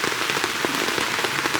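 Steady rain falls on a mountain trail on Gunung Slamet, a dense, even hiss with scattered close drops and patters throughout, with no talking.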